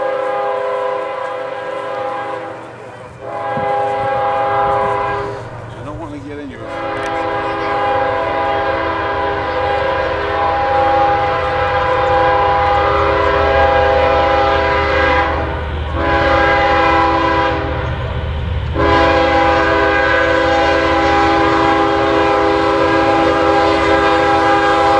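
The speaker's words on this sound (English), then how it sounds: "CSX Q134 coming by Folkston on track 2 with approach" CSX freight train Q134 rolls past on track 2 at Folkston, its horn sounding in long sustained blasts with brief breaks, loud and close over the steady rumble of the cars.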